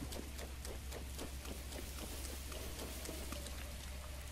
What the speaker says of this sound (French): Ah merde, il pleut, putain. C'est chiant cette pluie là